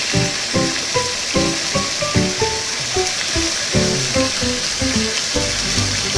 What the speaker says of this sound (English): I'm going to throw them onions in there.